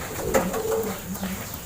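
Pigeons coo softly at a pigeon breeder's loft, a couple of low throaty coos with a bird call at close range against quiet background.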